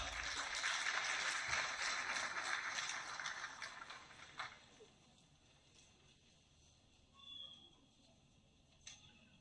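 A Quetta audience at the Baluchistan National Dialogue claps to welcome speaker Athar Hazara. The dense applause lasts about four seconds, then fades into a quiet hall with a few faint stray sounds.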